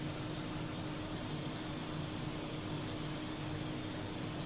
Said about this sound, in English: a simple, quick spray pattern